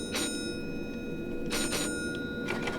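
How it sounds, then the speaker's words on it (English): A warning bell inside a train cab in the Train Sim Classic game, on a London Stratford to Richmond line, rings in three short clusters of bright tones over a steady rumble of the cab. "If you're outside the cab when the doors start closing, you don't get the bell."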